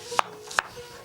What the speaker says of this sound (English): Next, we cut onion,